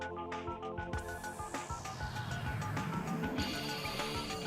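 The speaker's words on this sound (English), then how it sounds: "I love the phone tones." Telephone dialing tones sampled in a song, with short bright tone bursts layered over dense steady music that carries on throughout.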